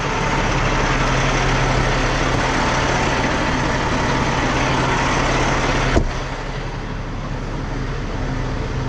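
A 25-ton Peterbilt 567 tow truck idles with a steady diesel rumble, close and continuous, with a brief knock partway through before the drone carries on slightly quieter.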